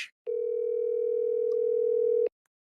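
A telephone ringback tone rings out once, a steady electronic beep lasting about two seconds on an unanswered call, clear and alone with a brief click before and silence after.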